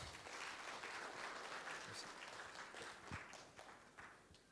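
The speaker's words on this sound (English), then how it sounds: "please give a big applause" An audience claps warmly for a professor after his World Philosophy Day talk, a dense, even wash of applause that holds for several seconds before slowly thinning toward the end.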